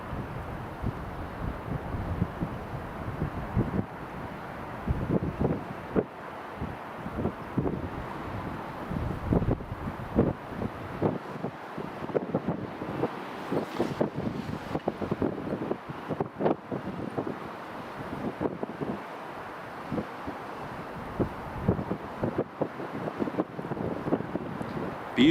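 Strong wind buffets a microphone beside runway 24 at Edinburgh Airport, a continuous loud rumbling roar with gusty thumps and no voices.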